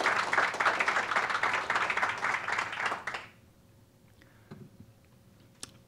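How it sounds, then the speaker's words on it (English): A conference audience applauds a keynote speaker with dense, loud clapping for about three seconds, then it stops abruptly, leaving a quiet room with a few faint ticks and shuffles. "You can clap right there."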